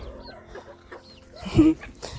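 A chicken clucks a few times up close, short throaty calls with a louder squawk near the end, over quiet background noise.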